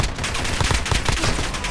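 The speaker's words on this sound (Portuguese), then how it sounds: "eu dei muito tiro nesse cara" Dense gunfire in a 2v2 match of Call of Duty: Modern Warfare (alpha), with rapid repeated shots and bursts packed close together, loud and continuous throughout.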